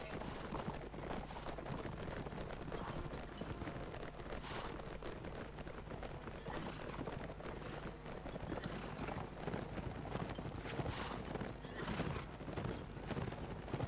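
Horses in a Lord of the Rings–themed strategy game, The Last Days of the Third Age, neighing and clip-clopping as Rohan cavalry ride, with a dense, continuous wash of hooves and battle noise throughout.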